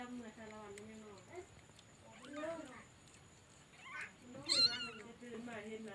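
Mother cat meowing just after giving birth to a litter of four kittens, a series of close, faint, plaintive mews and cries with short pauses between them and a louder call near the end.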